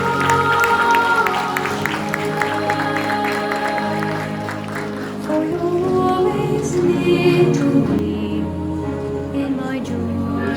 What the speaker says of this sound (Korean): 함 뜨거운 박수 부탁드리겠습니다